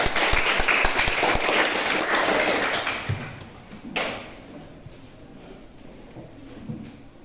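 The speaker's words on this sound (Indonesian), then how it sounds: "Berikan aplaus kepada mereka." An audience claps in a burst of loud, dense applause that lasts about three seconds, then fades into scattered claps and a few knocks in a quieter room.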